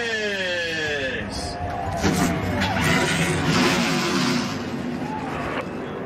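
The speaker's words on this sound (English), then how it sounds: "Drivers, start your engines!" NASCAR Xfinity Series race car engines fire up and rev together in a loud, rising roar that swells and holds, with rapid pitch sweeps early on and crowd or track ambience beneath.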